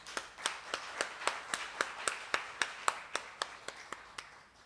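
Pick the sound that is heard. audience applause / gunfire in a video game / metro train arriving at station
audience applause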